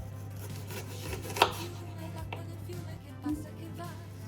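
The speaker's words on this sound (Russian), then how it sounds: "На такой объем теста я полулуковицы режу." A knife chops an onion on a board, a few sparse, quiet cuts over a steady low hum.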